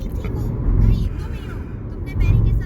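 A car drives along the road toward Sehore, its steady engine rumble and road noise swelling twice to louder surges, heard from inside with no one speaking.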